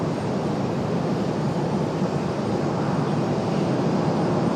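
An American Airlines Airbus A321 airliner sits on the departure runway at Raleigh-Durham International Airport, its engines giving off a loud, steady broadband roar that holds constant with no talk.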